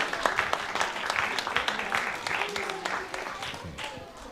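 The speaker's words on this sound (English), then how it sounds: "Let's send them off stage with a nice round of applause." Applause from an audience at a youth awards event as performers leave the stage, crisp clapping heard with voices talking over it, fading slightly toward the end.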